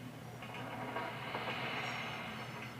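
A locomotive running at full throttle in a BeamNG train mod game, a steady low engine drone with faint rhythmic rail clatter throughout, moderately quiet.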